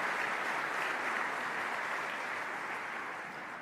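An awards-show audience at the IGF and GDC Awards 2018 claps in a broad, steady wash of applause that fills the hall and slowly fades toward the end, with no speech over it.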